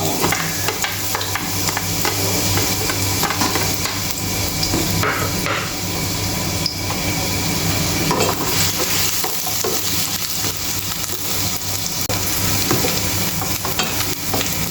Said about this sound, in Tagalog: igigisa na po natin yung ating sibuyas at bawang